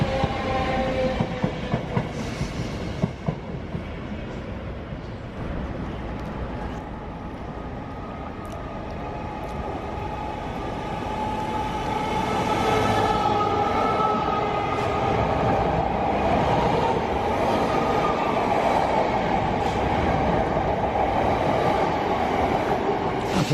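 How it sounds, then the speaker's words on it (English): Seven-coach London passenger train running on the line toward Shenfield, a loud continuous rumble and rolling rail noise that builds and holds steady, with faint clicks early on and no talking. "This train is formed of 7 coaches."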